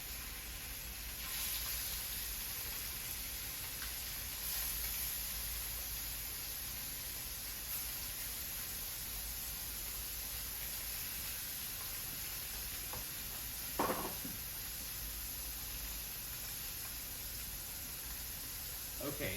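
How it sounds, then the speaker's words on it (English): Scallops hit smoking-hot clarified butter in a pan and sizzle with a steady, even hiss over high heat, joined by a couple of faint clinks. "We're just gonna drop the scallops in and make sure they're flat when they're going on the pan."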